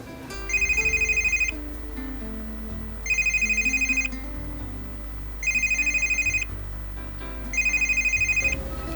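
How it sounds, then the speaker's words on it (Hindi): A telephone rings in four evenly spaced bursts of trilling electronic tone, loud and close, with steady background music underneath. "घर से फोन है"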